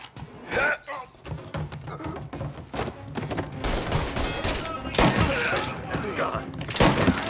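Dense gunfire from a shootout in Mafia: Definitive Edition, loud rapid bursts and single shots crowding together with impacts and shattering, game voices shouting between volleys.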